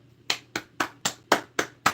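Seven crisp single hand claps land at an even, brisk pace, close and isolated against a quiet background with no talk.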